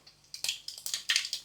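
Mustard seeds splutter and pop in hot oil for a South Indian rasam tempering, a quick series of sharp crackling bursts, close and fairly loud, with no talking.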